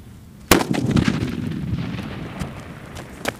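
A Malwa sutli firecracker goes off during a Diwali fireworks test with one sharp, loud blast, then a long crackling, rumbling tail and a few scattered later pops.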